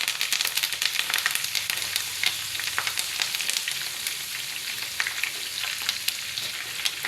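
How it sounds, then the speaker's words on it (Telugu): Green chillies fry in hot oil for pulihora, a dense, steady crackling sizzle heard up close with light stirring throughout. "ఇప్పుడు మనం పచ్చిమిరపకాయలు కూడా వేసుకొని ఫ్రై చేద్దామండి"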